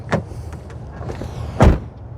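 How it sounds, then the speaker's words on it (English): The door of a 2026 Toyota Grand Highlander Hybrid shuts from outside with a single solid low thud, preceded by a faint latch click and set against quiet outdoor ambience. "let's take a listen to the sound of the closing door"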